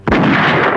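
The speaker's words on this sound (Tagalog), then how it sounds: "putok ng baril yun ah" A single loud, close gunshot booms in a jail setting, with a sharp onset and a heavy, rumbling tail that fills the short moment, no voices over it.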